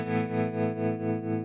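Boss Katana amp tremolo set to a smooth sine wave shape: a ringing, slightly driven electric guitar chord swells and fades in gentle, regular pulses about twice a second, steady and close with no voices.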